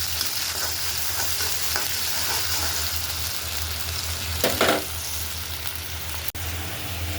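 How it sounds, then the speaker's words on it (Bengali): Garlic paste, onion paste and spices frying in oil in a pan, with a steady dense sizzle, a brief louder burst of crackle near the end and a sharp click, no voices. "মশলাটা তো তেলের উপরে ভাজা ভাজা হোক।"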